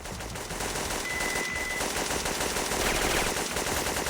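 Sustained machine gun fire in the video game Syphon Filter 2, set in the Colorado Mountains: a continuous rapid stream of loud, close shots with no break for about four seconds.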